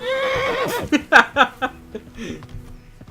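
Horse neighing in the medieval game Kingdom Come: Deliverance, a loud, close whinny that rises and then breaks into a series of fading snorting pulses, with no talk.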